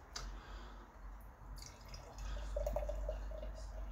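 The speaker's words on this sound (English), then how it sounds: "I'm pouring it into a wine glass" Imperial stout beer pours from a freshly opened bottle into a wine glass, a soft trickling, gurgling liquid stream that builds steadily and fills the glass over a few seconds, close and fairly quiet.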